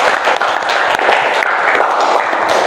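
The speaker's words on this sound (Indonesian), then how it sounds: "Tepuk tangan dulu untuk Hasbi." A class applauds student Hasbi, steady dense clapping filling the room from start to end with no pause, fairly loud and close.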